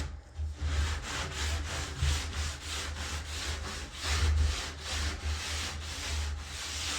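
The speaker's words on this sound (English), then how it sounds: "So I just have a sand-in block." A sanding block rubs back and forth over the frayed edges of an MDO board in steady, rhythmic strokes, close and moderately loud with no talking.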